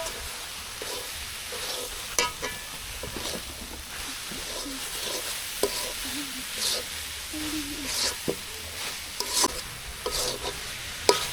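Carrot halwa with powdered milk is stirred in a pan, with repeated scraping strokes of a spoon over a constant close sizzle, the strokes coming at an irregular rhythm.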